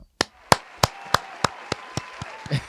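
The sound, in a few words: audience applause for Rob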